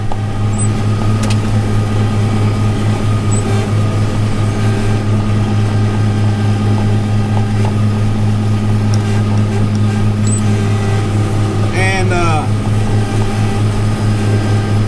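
A tractor-driven straw blower runs with a loud, steady engine drone, deep mechanical hum and whirring machinery, unchanging over the whole stretch, with a brief squeal near the end.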